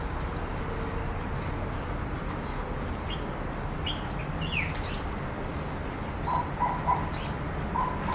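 Several birds chirp and coo outdoors on a veranda after light rain, with scattered short calls and a few clearer whistled notes over a steady, dense background of ambient outdoor noise.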